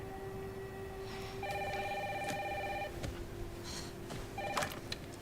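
A telephone rings indoors in bursts of electronic trilling, two clear rings separated by a short pause, heard over a rainy background hiss.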